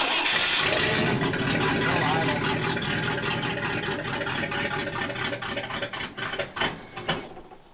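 A 1973 Ford Ranger engine running and revving with a carburetor needing cleaning, a steady mid-pitched idle with uneven surges that fade toward the end.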